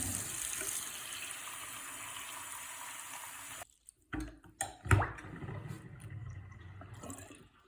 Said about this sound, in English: We'll run the water, make sure we don't have any leaks